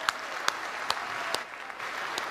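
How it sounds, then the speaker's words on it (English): Audience at a 2015 party leader's speech in Margate applauding election candidates, heard as sparse, scattered hand claps, fairly faint and somewhat distant, thinning out near the end. "Applaud them, everybody."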